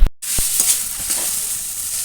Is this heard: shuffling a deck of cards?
no